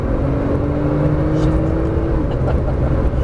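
A Porsche Turbo S driven hard around a race track, its engine droning loud and steady throughout with a sustained tone shifting as the throttle comes back on.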